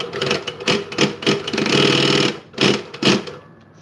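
A sewing machine runs in short bursts and one longer steady whir, close and fairly loud, with brief pauses between runs.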